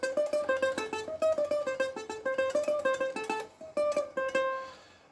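A ukulele picks out the Jimmy Neutron theme tune as a quick run of bright plucked notes in a bouncy rhythm, close and clear with no voices, ending on a few sustained strums.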